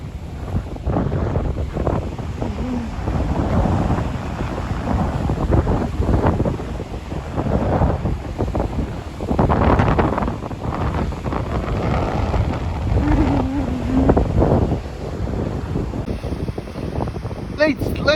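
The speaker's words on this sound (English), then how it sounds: "it's a little dangerous today to go further in such a windy day with extreme waves" Strong wind and heavy ocean surf on the rocky coast at Black Point, Narragansett, Rhode Island, with steady roaring gusts buffeting the microphone and waves surging and crashing in repeated swells, loud and continuous throughout.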